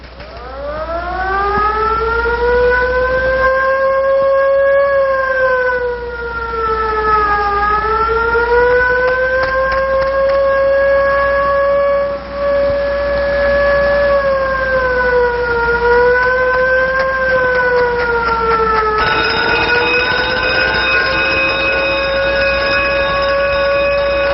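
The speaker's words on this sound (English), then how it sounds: "That siren still clutches at the heart" A loud wailing fire alarm siren in Cornwall, Ontario, 1958, holds a steady tone, its pitch dipping and rising gently over a long, continuous blare.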